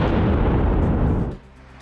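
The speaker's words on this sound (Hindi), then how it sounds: "रूस की वेस्टर्न ग्रुप की सेना ने सर्च ऑपरेशन के दौरान मिले यूक्रेनी हथियारों के जखीरे को नष्ट कर दिया।" A captured Ukrainian weapons cache is destroyed in a loud, broadband explosion that roars for over a second before abruptly dying down into faint lingering rumble.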